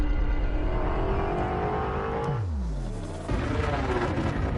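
A spaceship engine in the game Elite Dangerous roars steadily, then its pitch sweeps downward as it powers off, with a rumbling hum carrying on afterward. No voices are heard.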